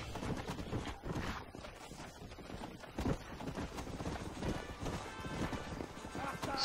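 Horse hooves clip-clop steadily in the Red Dead Redemption video game on Xbox 360, a continuous rhythmic trotting near a town, layered under busy game ambience and faint voices.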